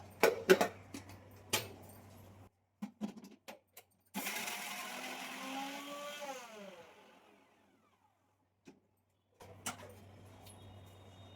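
Mixer grinder whirring through a tomato and coriander chutney in one short burst of about three seconds, close and loud, then spinning down, with clinks and knocks of the jar before and after.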